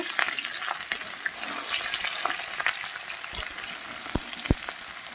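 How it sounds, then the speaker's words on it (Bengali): Pieces of young pumpkin sauté with already-fried potatoes in a pan, making a moderate sizzle with repeated sharp knocks and scrapes from a spatula stirring the mixture. "এই পর্যায়ে আমি দিয়ে দেব কেটে রাখা কচি কুমড়োগুলো এটাকেও আরেকটু কষিয়ে নেব"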